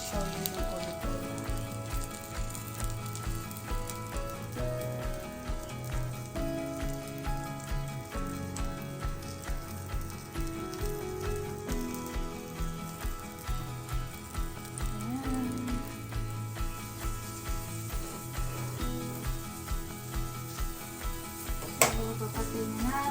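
Tortang talong, an eggplant omelette made with four large eggs, fries in olive oil with a steady, continuous sizzle that runs the whole clip under background music.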